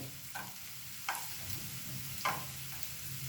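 Okra (vendakka) frying in oil gives a faint, steady sizzle, broken by a few soft scrapes as it is stirred in the pan.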